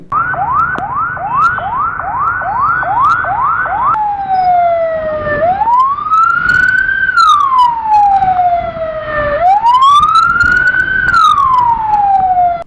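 A loud ambulance siren sounds nearby in a traffic jam caused by a broken-down KSRTC bus, first a rapid yelping whoop, then long slow wails rising and falling, with traffic rumbling underneath.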